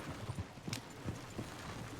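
Horse hooves clip-clopping in the video game Red Dead Redemption 2, a steady run of close, moderately soft hoof knocks at a walking pace, with no speech.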